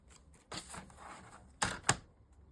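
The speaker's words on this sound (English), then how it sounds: "In my trimmer and just cut out." Paper trimmer slicing 8x8 Stamperia patterned scrapbook paper, with a soft rustle of handling followed by two sharp, close cutting clicks in quick succession near the end.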